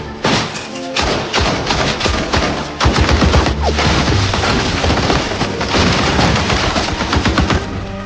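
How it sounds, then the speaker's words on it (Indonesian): Gunfire from a film shootout with masked robbers, one of them holed up in a bathroom and firing blindly. Dense, loud bursts of shots and heavy thuds run almost continuously, with only brief gaps between volleys. "Setelah suara tembakan berhenti"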